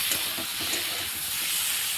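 Fried fish sizzling in a hot pan with onion and garlic for a fish curry, a steady close hiss filling the whole stretch with no talking.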